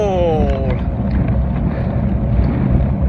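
Strong wind buffets and roars across the microphone on a cycling journey into Canada, a steady low rumble with a brief whistling tone at the start.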